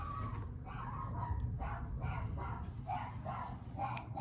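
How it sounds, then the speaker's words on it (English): A pet dog gives a series of short yips and whimpering barks, about eight bursts in a loose rhythm, moderately close and fairly soft over a low background hum. "That's my dog."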